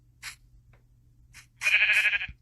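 A sheep bleats in the Minecraft video game, with a short faint call near the start and a louder, sustained wavering bleat toward the end, close and clear with no talking.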